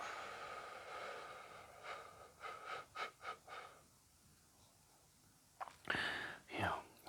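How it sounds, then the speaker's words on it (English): A deep breath, taken during a guided grounding exercise, comes as a series of soft, close breathy puffs followed by a louder inhale and exhale, with quiet speech at the start. "So take our deep breath."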